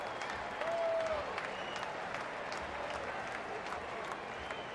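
Baseball stadium crowd, Cincinnati Reds at Pittsburgh Pirates, applauding a batter stepping in: a distant, faint murmur of clapping under a broadcast commentator's voice, with a brief whistle-like tone early on.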